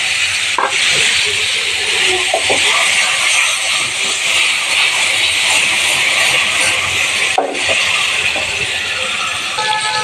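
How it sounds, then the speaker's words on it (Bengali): Hilsa fish pieces sizzle in hot oil, a loud continuous frying hiss close up that barely changes, with a couple of brief clinks of utensils and no voices. "তেলটা গরম হয়ে গেলে মাছগুলো একসাথে ছেড়ে দিলাম"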